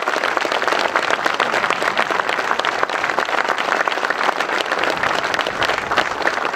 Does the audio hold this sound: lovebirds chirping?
no